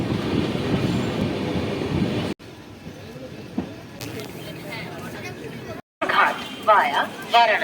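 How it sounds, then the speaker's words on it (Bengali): A long-distance passenger train from Howrah to Dehradun arrives at Lucknow Junction, rolling in with steady rumble and occasional wheel squeal. Voices sound around the platform, and the sound cuts out briefly twice. "ট্রেন যাত্রাপথে 1042 কিলোমিটার সম্পূর্ণ করে এই মুহূর্তে এসে পৌঁছেছে লখনৌ জাংশনে"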